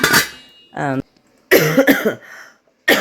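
Several harsh coughs close to the microphone, in short bursts separated by brief pauses.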